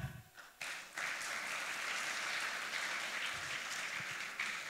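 A church audience breaks into sustained applause after a short pause, a dense, steady wash of many hands clapping at moderate distance.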